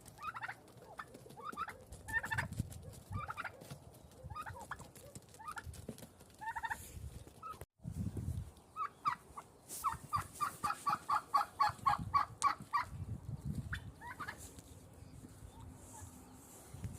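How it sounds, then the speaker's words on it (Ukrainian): Turkeys gobble repeatedly in bursts, some close and loud, others farther off, with rustling and scuffling between calls as one chases a smaller turkey, ducks nearby. "Індик ганяє меншого індика."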